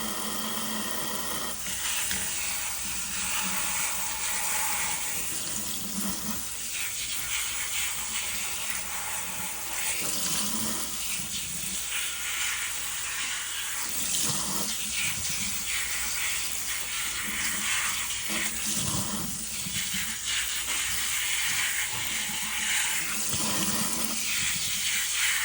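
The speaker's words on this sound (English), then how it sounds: "I usually will turn the sprayer on." A Shark 2-in-1 cleaner's sprayer rinses with water, giving a steady, continuous hiss that runs without a break for the whole stretch. No one speaks.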